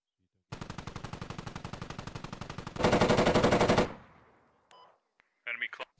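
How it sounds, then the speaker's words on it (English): An MT-LB armored vehicle's gun in the Squad video game firing a long sustained burst of rapid evenly spaced shots, growing louder and harsher midway before stopping, followed by a few faint distant sounds. "That's the MTLB, and he's firing"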